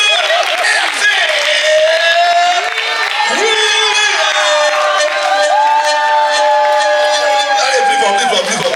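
A school audience at a kids' open mic claps and cheers for the young performers, a loud, dense, continuous wash of applause with whoops, while voices talk and call out over it throughout.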